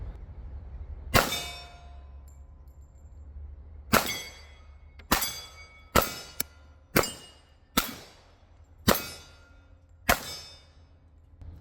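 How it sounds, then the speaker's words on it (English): A stainless Sig 1911X pistol fires eight sharp shots at steel targets, each crack followed by a ringing metallic clang, spaced irregularly about a second apart at an outdoor range, no talk. "So let's just put some rounds down range."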